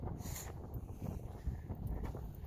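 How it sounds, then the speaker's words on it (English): Wind gusting across an open winter rye pasture, a steady low rumble of buffeting against the microphone lasting a couple of seconds, close and moderately loud, with no talk. "Oh, the wind!"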